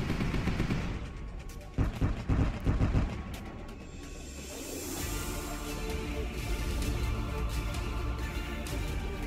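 Gunfire from the space battle game Sunrider: Mask of Arcadius: a loud burst of rapid repeated shots in the first few seconds, then a sustained rumbling, whooshing barrage that continues to the end.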